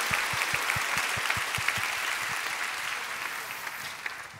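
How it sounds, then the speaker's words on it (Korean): A church congregation claps in encouragement, a dense, even applause with a soft rhythmic thump underneath that slowly thins out toward the end. "네, 격려 박수하겠습니다."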